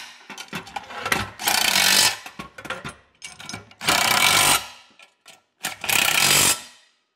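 Nuts on a Magcoa hand truck with tread brake assembly are tightened using a 1/2 inch deep well socket: four loud, close bursts of whirring driving, each a second or less, separated by brief clicks and pauses.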